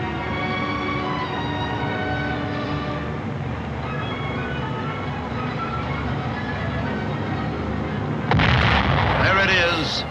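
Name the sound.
guided bomb explosion hitting target, archival film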